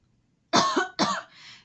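Two sharp coughs close to the mic, followed by a softer breathy trailing sound, with silence before them.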